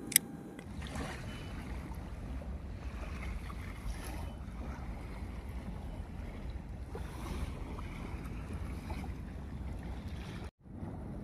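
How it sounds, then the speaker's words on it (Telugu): Waves wash onto a beach at night in a continuous, even rush of surf, faint and distant-sounding, with a brief dip in the noise near the end. "అలల సౌండ్ అయితే చాలా విపరీతంగా చాలా గట్టిగా ఉందన్నమాట."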